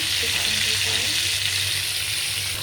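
Pangas fish fries in a pan with a steady, close sizzle that holds evenly throughout.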